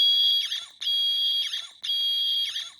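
A Rubbertoe Replicas laser screwdriver prop fires its electronic sound effect from a micro switch, a high whining buzz with a warbling sweep, repeated three times in even bursts, loud and clear with no talk.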